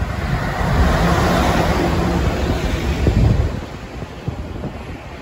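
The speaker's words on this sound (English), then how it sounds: "Really beautiful waves crashing as well." Ocean waves roll and crash on the shore beside a seaside restaurant in Sri Lanka, a steady broad wash of surf with some wind buffeting the microphone.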